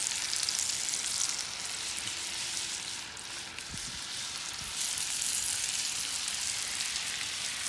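An egg fries in a big skillet over coals, a continuous hissing sizzle with faint crackle and a couple of low thumps, no talking.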